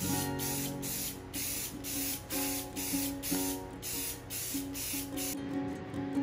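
Krylon Gloss Crystal Clear coat sprayed from an aerosol can onto steampunk ornaments, a steady hissing spray in repeated bursts of about half a second each, close and loud, with no talk.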